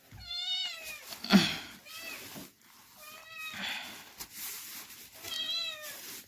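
A cat meows three times, each a drawn-out, wavering call spaced a couple of seconds apart, fairly faint inside a home with light background noise.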